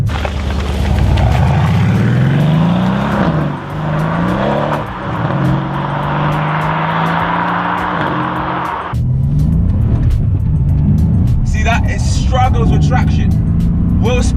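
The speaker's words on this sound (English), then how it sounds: "So right now I've got the car in Sport Plus mode and the gearbox in manual." Mercedes C63 AMG in Sport Plus mode with a manual gearbox, its engine revving hard and rising through the gears, a loud close roar that drops abruptly near the end, followed by lighter rumbling and a voice.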